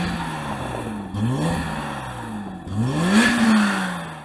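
A BMW M5 engine revs repeatedly in sharp rising bursts, loud and nearby, with the last rev climbing highest before easing off.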